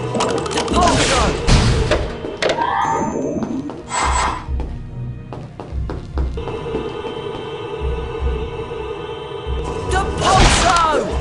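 Depulso spell cast repeatedly in the Harry Potter Prisoner of Azkaban video game: bursts of blasting thumps and crashes with ringing magical tones in between, and a voice shouting over them.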